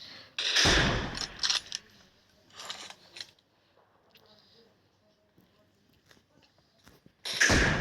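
Video game gunfire comes as sharp, loud bursts of shots at the start and again at the end, with scattered quieter clicks and thuds between them.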